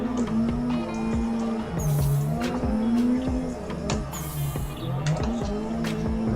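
Tire squeal from a car drifting in the Assetto Corsa racing game, with a droning engine note that rises and falls and repeated squealing bursts all the way through.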